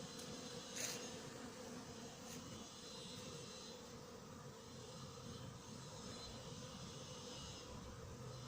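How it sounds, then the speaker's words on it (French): Bees buzzing in front of a beehive, a dense, steady hum of many insects near and far, continuous and fairly faint, with no talking. "Toutes ces abeilles devant lui,"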